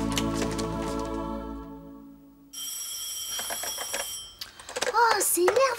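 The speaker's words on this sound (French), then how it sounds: "Oh, c'est énervant, ce téléphone qui sonne tout le temps." A telephone rings indoors in a French television series, sounding as a bright, steady tone after a stretch of other sound, followed by a woman's speech.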